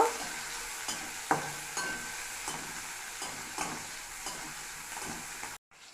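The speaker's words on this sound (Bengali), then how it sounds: "এই মাছ ভাজার তেলে আমি দিয়ে দিচ্ছি পাঁচ ফোড়ন আর দিয়ে দেবো পেঁয়াজ কাঁচা লঙ্কাটাও দিয়ে দেব" Onion and green chilli fry with five-spice seeds in oil left from frying fish, making a continuous close sizzle with repeated stirring scrapes before a brief sudden silence at the end.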